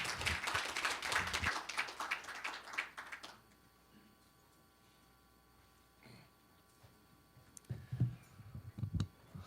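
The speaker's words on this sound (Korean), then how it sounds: "박수 부탁드립니다." An audience at a construction-industry breakfast forum claps to welcome the Korean transport minister, with a burst of brisk applause for about three seconds that cuts off into quiet room tone, followed by a few scattered taps and thumps.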